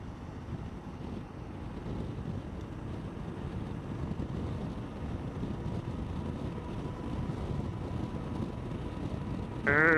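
A rider cruises on a Honda Trail 125 CT125 motorcycle fitted with a windshield, and constant low wind buffeting roars against the microphone throughout, steady and moderately loud.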